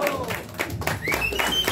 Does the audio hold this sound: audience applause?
yes